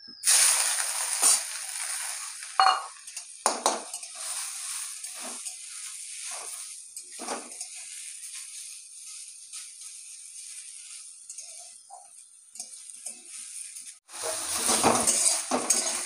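Drumstick leaves are tossed with fried chillies in a pan, giving scattered clinks and scrapes of a utensil against metal with a faint sizzle between them, close and moderately loud.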